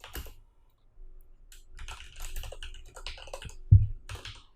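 Code typed on a computer keyboard, light rapid keystrokes in scattered short runs, close but soft, with one heavier thump near the end and no talking.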